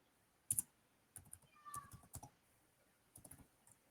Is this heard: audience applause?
no